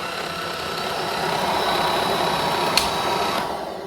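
Motor whir of an AiDot V25 stick vacuum cleaner with its brush roll spinning, a steady close hum with a brief click near the end and no talk.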